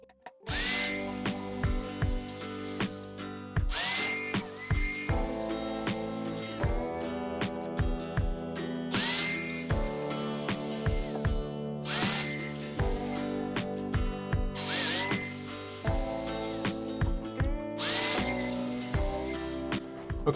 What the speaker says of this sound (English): now I clamp it securely and break out the jigsaw.